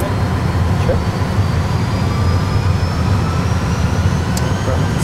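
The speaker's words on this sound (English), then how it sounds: "Stable, flex takeoff thrust. Thrust set." Engines of an Airbus A320 full flight simulator spool up to flex takeoff thrust, giving a steady, loud low rumble with a faint rising whine that holds throughout.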